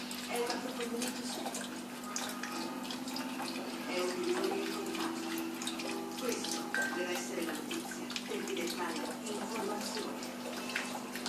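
Water pours steadily from a tap in a continuous splashing stream, with a low hum and faint voices in the background.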